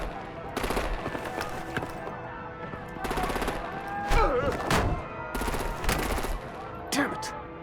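Bursts of gunfire and heavy artillery blasts in the Batman: The Enemy Within video game come in several loud volleys separated by short gaps. Steady rumbling combat noise runs beneath them.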